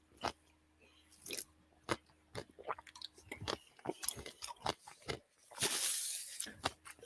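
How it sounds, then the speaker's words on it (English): Someone munches and bites into food crudely, with loud, close, irregular crunching and chewing bursts and wet smacking, plus occasional grunting sounds. "that's somebody munching on food in some rather crude manner"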